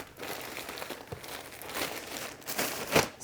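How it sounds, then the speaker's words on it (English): Plastic poly mailer crinkling and rustling as jeans are packed into it, quiet irregular crackles close by, with a sharper crinkle near the end. "attempt to put it in a second poly mailer"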